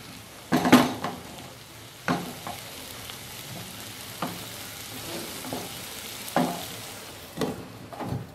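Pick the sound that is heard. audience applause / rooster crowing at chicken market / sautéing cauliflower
sautéing cauliflower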